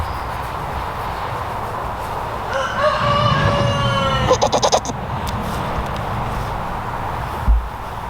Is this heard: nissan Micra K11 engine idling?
no